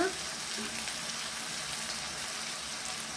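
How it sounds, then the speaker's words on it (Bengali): Garlic paste frying with leaves in a pan, a soft, steady low sizzle that continues evenly throughout at a quiet level. "রসুনটা এই পাতালের সাথে ভেজে নেব"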